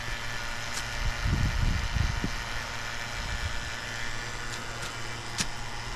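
A cheap Chinese robot vacuum cleaner, a $120 unit bought on Amazon, runs with a steady low mechanical hum, a brief louder swell, and a few sharp faint clicks.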